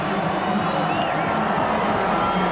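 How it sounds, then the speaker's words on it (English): Rugby league stadium crowd in Sydney at a 1991 Kangaroos versus Kiwis test, a dense continuous roar of cheering that stays loud and steady throughout, distant and broad. "This crowd is screaming for more here in Sydney."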